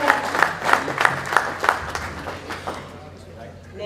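An audience at a school annual awards evening claps after a list of student names is read, starting as a run of distinct, fairly even claps and then thinning and fading out toward the end.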